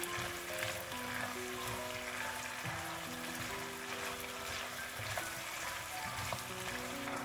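Pork ribs coated in sauce are stir-fried in a wok, with a continuous close sizzle and bubbling and some stirring, while a low hum runs beneath and no one speaks.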